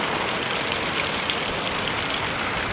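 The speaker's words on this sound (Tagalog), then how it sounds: "Kaso nga lang, ang lakas-lakas na naman ang ulan." Heavy monsoon rain pours steadily beside a swollen river, a dense, even hiss that fills the whole clip at constant loudness with no pauses or talk.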